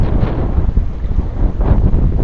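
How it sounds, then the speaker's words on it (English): Strong wind gusts at a river while fishing, rough buffeting rumble right on the microphone, loud and continuous with uneven surges and no talking. "I'll wait for this wind to stop."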